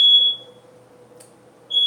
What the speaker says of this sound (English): that was my smoke alarm